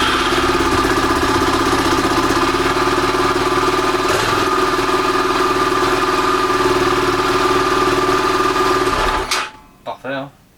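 A KTM LC4 Adventure single-cylinder motorcycle engine idles steadily and close after a starter replacement, a continuous throbbing hum that cuts off near the end, followed by brief voices.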